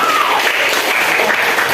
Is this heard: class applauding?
yes